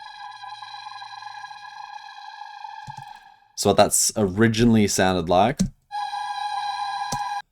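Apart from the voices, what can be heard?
vocal tonal reverb hit sample in drum and bass production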